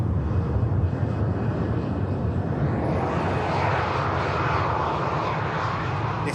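A Ryanair airliner at Manchester Airport gives off a steady engine rumble and roar, moderately close and continuous, swelling a little partway through with no voices over it.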